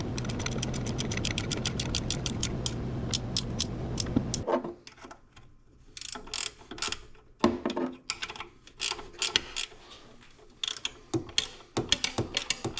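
Wrench clicking and ratcheting as bolts are snugged down on a pressure washer pump, a steady mechanical whirr at first giving way to sharp, close metallic clicks and knocks in bursts.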